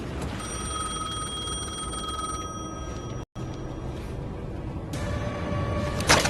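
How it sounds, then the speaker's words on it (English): Telephone ringing in the video game Alan Wake 2, a sustained electronic bell tone repeating over a gritty background, briefly cutting out and then resuming louder near the end. "The phone was ringing again."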